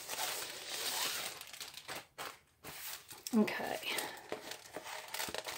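A plastic bag holding a Diamond Dotz diamond painting kit crinkles and rustles in quick bursts as it is opened, fairly close, while a person speaks briefly.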